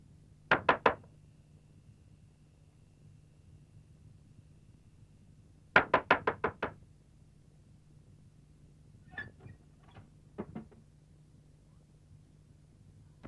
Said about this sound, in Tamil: மீரா, ஏய் கதவு திறடி.